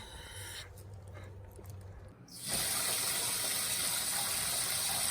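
Water gushing from a hose during well maintenance at a log cabin, starting quieter with a low hum, then surging into a loud, steady broadband rush from about two and a half seconds to the end.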